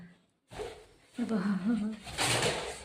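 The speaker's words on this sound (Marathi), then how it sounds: "कबूतर" A soft, low pigeon coo murmurs briefly inside a room amid people talking nearby, mostly masked by the voices.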